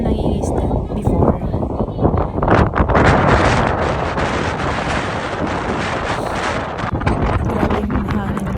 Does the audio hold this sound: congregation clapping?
no